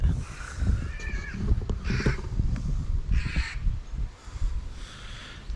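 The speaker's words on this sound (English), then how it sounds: "sorry about the crows" Crows caw repeatedly outdoors at a wild camping spot, several harsh calls in irregular bursts at moderate distance, with some faint rustling between them.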